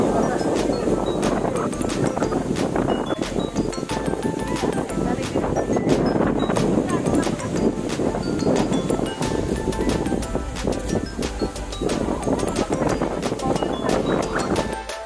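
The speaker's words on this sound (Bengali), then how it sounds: "এখানে হচ্ছে প্রচণ্ড বাতাস ছিল, মনে হচ্ছিল হচ্ছে আমরা সবাই উড়ে যাচ্ছি" Strong wind at Kuakata beach on the Bangladesh coast roars constantly into the microphone, loud and gusty without a break.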